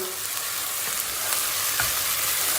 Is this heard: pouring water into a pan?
no